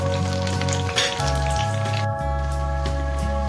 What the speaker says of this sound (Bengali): এলাচ, লবঙ্গ, দারচিনি এটাও এই ফোড়নের সাথে একইভাবে কিন্তু আমি ভেজে নিচ্ছি।